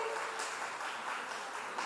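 Applause from the audience at a wedding sangeet, following a romantic performance: a steady, broad wash of clapping that holds at an even level throughout, with no voices rising above it.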